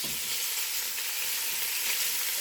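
Sausage and peppers sear in a hot pan with a steady, loud, broadband sizzle and crackle that continues unbroken, with no voices.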